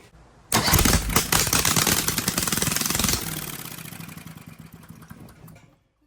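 Briggs and Stratton 18 HP Vanguard engine, long unused, cranks and fires after a quiet moment, then runs loud and close with a rough, pulsing idle that steps down partway through and fades toward the end.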